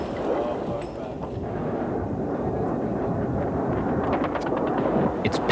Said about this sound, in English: Flak narrowly misses a swooping Su-25.